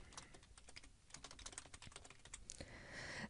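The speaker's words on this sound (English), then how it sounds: "one way is just to simply left click, and then I can begin typing" Rapid, uneven keystrokes on a computer keyboard while text is entered in a 2D design program, sounding close and crisp with no talking.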